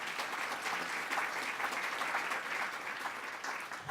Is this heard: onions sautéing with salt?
no